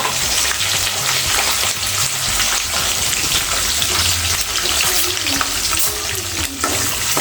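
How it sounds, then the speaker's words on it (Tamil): Dried red chillies and green chillies fry in hot oil in a pan, a loud, steady sizzle with stirring scrapes running throughout. "இதெல்லாம் போட்டு ஃப்ரை பண்ணிக்கணும்."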